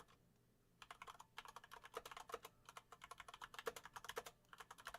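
Fast, irregular keystrokes on a computer keyboard during a coding lesson, close and fairly quiet, with clicks coming in quick bursts and short pauses for about four seconds after a brief silent start.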